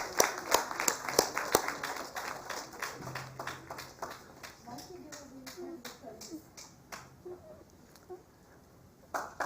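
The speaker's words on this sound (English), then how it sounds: "Please everyone give a big round of applause." Audience applause at an award ceremony for a university rank holder: sparse, scattered hand claps from a modest crowd, strongest at the start and thinning out over the following seconds, with faint murmuring in the room.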